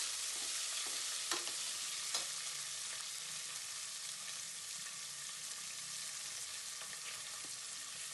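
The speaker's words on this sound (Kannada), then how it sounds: "ಈರುಳ್ಳಿ ಕರಿಬೇವೆಲ್ಲ ಸೇರಿಸ್ಕೊತಾ ಇದ್ದೀನಿ. ಎಲ್ಲ ಒಂದು ಕಡೆ ಮಿಕ್ಸ್ ಮಾಡ್ಕೋಬೇಕು." Onions and curry leaves fry in hot oil in a pan, a steady close sizzle with occasional scrapes and clinks of stirring, no voices.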